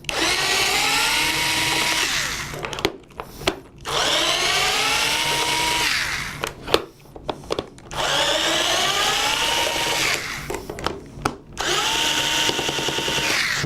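A power drill drives screws out of a rear motor mount, sounding as several loud, close whirring bursts of a few seconds each, separated by short pauses.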